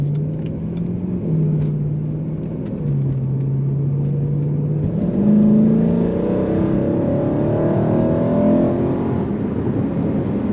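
A BMW E92 M3 accelerating on the road, its engine note climbing through the revs in steady pulls with a gear change midway, loud and close from inside the cabin with no talk over it.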